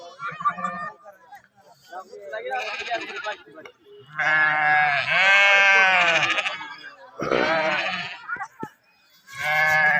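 Sheep bleat loudly and close at a Balumama devotees' flock camp, with several long, wavering calls separated by short pauses.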